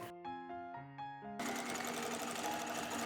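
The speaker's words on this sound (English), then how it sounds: "using a 1/2 inch seam allowance and a straight stitch, sew along the front of the hood all the way around point to point" A sewing machine runs a straight stitch along the front edge of a cape's hood and lining, first in short stop-start bursts, then in a steady, loud continuous run with no talking.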